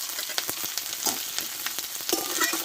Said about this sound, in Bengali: বড় সাইজে দুটো পেঁয়াজ কেটে রেখেছিলাম দিয়ে দিলাম আর দেবো কয়েকটা লঙ্কা চেরা